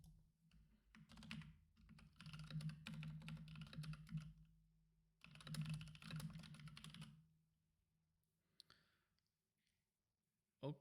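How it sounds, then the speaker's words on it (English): Fingers type on a computer keyboard during an open source coding stream in two dense bursts of rapid clicking separated by a pause, with a few stray clicks afterward, quiet and close. "It was just the typing."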